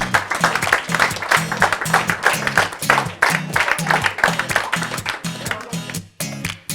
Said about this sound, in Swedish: En applåd för juryn!